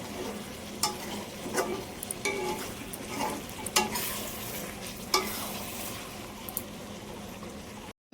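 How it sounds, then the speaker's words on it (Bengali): Meat being slow-sautéed kosha-style in a pan, a quiet bubbling sizzle broken by intermittent clicks and scrapes of a spoon stirring it. "মাংস কষানো চলছে।"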